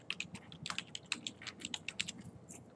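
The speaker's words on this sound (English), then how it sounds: "create a new employee, type in their name" A name is typed on a computer keyboard in a quick, uneven run of light, close keystroke clicks, with no voices.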